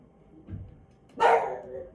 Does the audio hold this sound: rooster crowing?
no